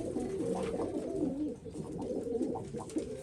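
Chinese pigeons coo repeatedly in a loft, a steady run of low, rolling calls up close and fairly loud, with no speech.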